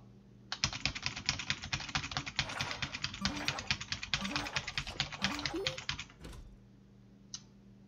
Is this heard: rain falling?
no